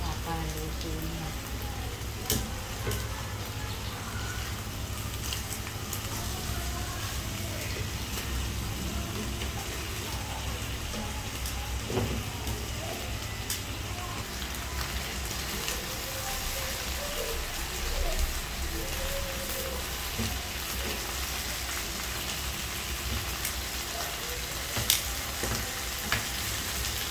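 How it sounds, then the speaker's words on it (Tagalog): Chicken inasal frying in a kawali makes a constant, even sizzle with scattered crackles and pops, close and fairly soft, while a voice talks faintly now and then. "ang ating chicken inasal sa kawali"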